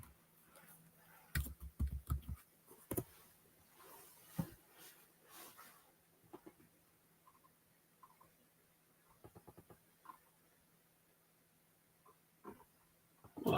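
A computer keyboard set almost at eye level is typed on in scattered bursts of soft clicks, with a clustered run of keystrokes near the start and sparser taps later over a faint background hum.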